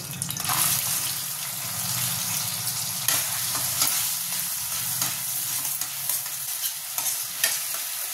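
Spice paste, ginger, green chili and tomato frying in a pan for potoler rezala, a steady close sizzle with repeated scraping stirs throughout, no talking.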